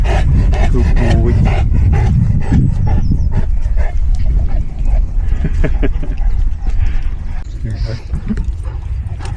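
Dogs on a nature walk make growly, snarling play noises and a few barks close by, while people talk over them almost throughout.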